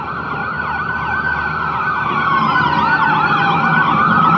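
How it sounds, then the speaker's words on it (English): An ambulance siren wails on a city street near a pier, its rising and falling tones loud and steady and growing slightly stronger as it approaches, with no talking over it. "Beautiful sound of sirens in the background."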